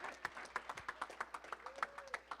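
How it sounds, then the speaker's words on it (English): A small press-conference audience at the 2015 Paradise Jam gives a round of applause, sparse distinct claps in an irregular patter, moderately close and fairly soft, with a faint voice sliding briefly underneath. "I would like to give ourselves a round of applause."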